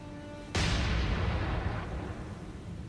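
Naval guns on a PT boat in the War on the Sea video game open fire with a sudden loud blast, followed by a dense, rumbling roar that slowly fades across a few seconds.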